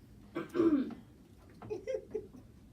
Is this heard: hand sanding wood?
no